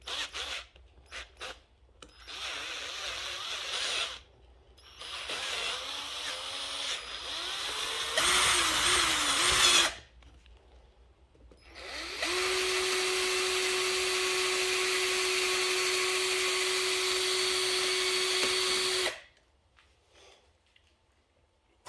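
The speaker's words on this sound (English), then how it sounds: "I'll just make this hole a little bit irregular with the drill bit" Drill bit boring into and hollowing out an oak bonsai trunk: several short whirring bursts, then a longer steady grinding run at close range, with no talking.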